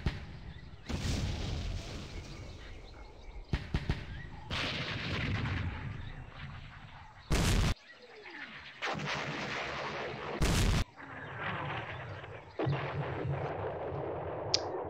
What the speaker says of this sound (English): Some incoming artillery there.